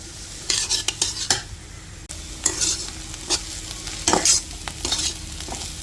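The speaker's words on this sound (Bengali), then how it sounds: "এখন কপিগুলো এখন ভাইজে নিই" Cauliflower frying with turmeric in a home kitchen pan, sizzling steadily while a utensil stirs and scrapes in repeated bursts, close and fairly loud with no talk.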